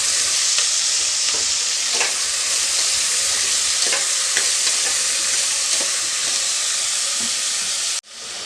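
Chopped onions fry in a pan with a loud, steady sizzle and hiss, broken by faint scraping stirs; the sound cuts off abruptly near the end.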